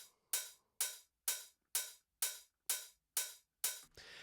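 Layered open and closed hi-hat samples strike together eight times in an even, quick rhythm. Each hit is bright and crisp with a short hissy tail, and a noisier wash closes the pattern. The hits play alone at low level with no voices.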